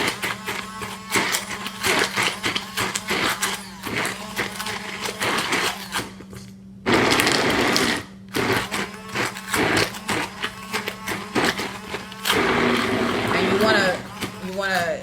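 A blender motor whirs steadily, with a louder, harsher burst partway through before it settles back into a constant drone.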